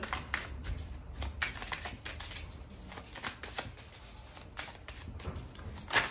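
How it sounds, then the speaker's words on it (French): A deck of oracle cards is shuffled by hand for a reading, soft repeated riffling and slapping of cards, close and quiet with no talk. "Allez, on va faire un tirage."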